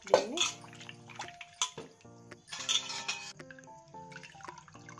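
Water being poured off boiled bitter gourd in a kitchen, with splashing, trickling and dripping mixed with clinks of a metal vessel, in short uneven bursts.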